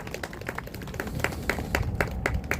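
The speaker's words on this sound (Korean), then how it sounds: "큰 박수로 맞이해주시기 바랍니다." Scattered clapping from a small group of reporters and attendees at an outdoor mayoral candidacy press conference in Ansan on a chilly day. The claps are light and uneven, a sparse patter of separate hand claps.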